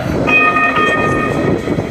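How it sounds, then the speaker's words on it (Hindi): A light rail train passes near Exchange Place in Jersey City, its loud rumbling wheels and rail noise close by, with a brief tonal horn or whistle near the start. "ये जैसे इंडिया में मेट्रो है ना, ऐसे यहाँ पे लाइट रेल चलता है"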